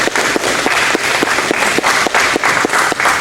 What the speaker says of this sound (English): Let's give all those who spoke before me a round of applause.